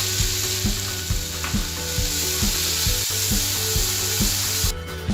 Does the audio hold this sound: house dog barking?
no